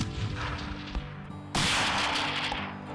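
A rifle shot fired through a long-range scoped setup at a buck standing 267 yards away, heard as one loud sudden crack that gives way to a sustained rumbling echo over faint outdoor background.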